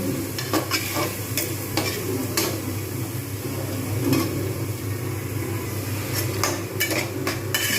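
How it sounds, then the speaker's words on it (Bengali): Soaked mattar dal and aromatics are stirred in a hot pan, a spoon scraping and clacking against the metal in irregular sharp knocks over a constant low frying sizzle. "কিছুক্ষণ নেড়ে নিলাম এরকমভাবে ভালো করে নেড়ে নিলে টেস্ট ভালো হয়"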